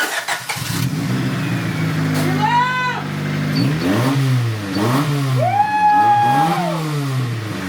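A previously abandoned Honda Prelude engine cranks, catches and starts, then revs loudly in a few rising and falling pulls, close by.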